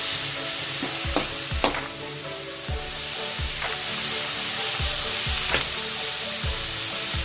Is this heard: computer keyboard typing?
no